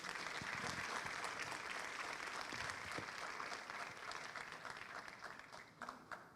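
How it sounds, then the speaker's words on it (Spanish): An audience applauds a doctor at a United Nations Orange Campaign event against violence toward women, dense steady clapping from a crowd that gradually thins toward the end. "Nuevamente les pido un aplauso para la doctora."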